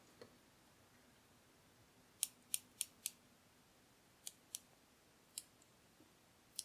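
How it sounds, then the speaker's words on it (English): Tiny thread scissors snip fabric close to a seam on a sewn shoulder dragon plush, giving about nine sharp, crisp, close cuts, some in quick runs, in an otherwise quiet room. "I even use my tiny baby scissors, even though they're mostly for threads, just because it's such a tight little area"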